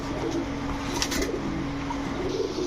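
Black Short Face pigeons cooing nearby, low repeated throaty coos that carry through a steady background hum, with a brief brighter flutter of sound around the middle.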